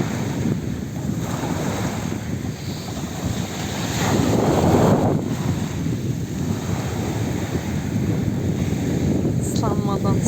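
Sea waves wash in and out at close range on Musalla beach in Çeşme, a broad rushing roar that swells midway, with wind buffeting the microphone.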